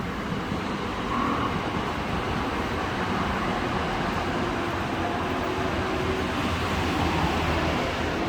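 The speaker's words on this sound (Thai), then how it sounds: "รถไฟฟ้าสายสีแดงนะครับ ขณะกำลังเข้า สถานีรถไฟฟ้าหลักหกนะครับผม" An SRT Red Line electric commuter train pulls into Lak Hok station in Bangkok with a steady, loud, unbroken rumble and rail noise that lasts throughout.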